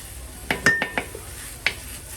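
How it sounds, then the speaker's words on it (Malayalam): A utensil stirs onion, garlic and ginger in a pan, giving a few sharp metallic clinks and scrapes spaced irregularly over a quiet kitchen background, close and moderately loud. "ഇതിങ്ങനെ ഇളക്കാം, നന്നായിട്ട് ഇളക്കാം."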